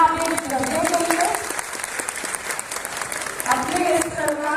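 Applause at a ceremony in Gonda: sustained crowd clapping, fairly loud and steady, with a voice speaking over it at the start and end.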